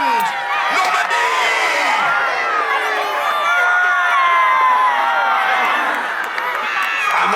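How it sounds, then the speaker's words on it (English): A large outdoor crowd at a Battle of Hastings reenactment cheers and whoops continuously, with many overlapping shouting voices and some close speech mixed into the loud, sustained roar. "Come on, give them a cheer!"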